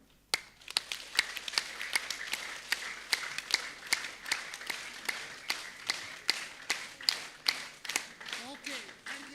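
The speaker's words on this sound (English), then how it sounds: "Okay, let's clap." Audience in a panel discussion hall clapping in scattered, uneven bursts, individual sharp claps repeating steadily for several seconds at moderate loudness, with no one speaking over them.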